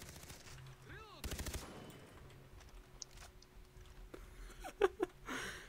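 Far Cry 3 gunfire rings out in quick bursts and scattered single cracks, with a rapid volley early and a sharper cluster near the end, over a quiet background with faint speech.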